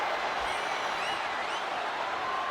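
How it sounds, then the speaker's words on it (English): A capacity crowd roars steadily throughout a WWE 2K25 arena match, a dense, continuous wash of cheering and applause with no voices standing out. "do you hear this capacity crowd?"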